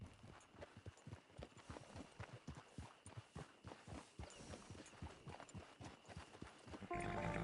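Horse hooves clop at a steady walking rhythm in a video game, close and clear, with a brief brighter rustle right at the end.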